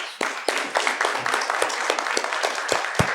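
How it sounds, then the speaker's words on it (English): Applause after a peace lecture from a small audience, with distinct individual claps standing out over a thinner bed of clapping, close and fairly loud. "let's have one more round of applause"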